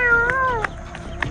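A boy imitates a cat with a short drawn-out meow, followed by a couple of brief, fainter mew-like chirps, all close and clear.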